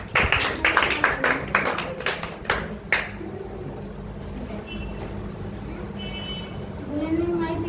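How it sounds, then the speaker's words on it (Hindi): Applause at a Teachers' Day celebration at a coaching centre, with loud scattered claps for about three seconds that quickly fade into room murmur and voices. "तालियां।"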